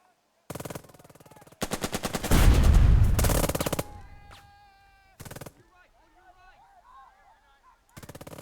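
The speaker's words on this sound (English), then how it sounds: "That is first round of shooting with the tanks." Tank gunfire in the video game Burden of Command: several bursts of rapid gunfire, one heavy booming shot with a long rumbling tail, then later short bursts, all fairly loud and close.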